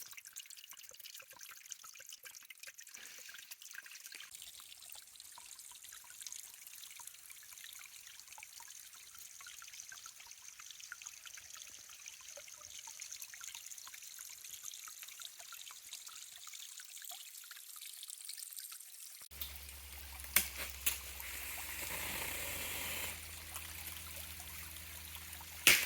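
Natural forest stream near a lake trickling and dribbling softly over rocks, a faint steady burble close by with occasional drips, no talking, ending in a brief louder rustle.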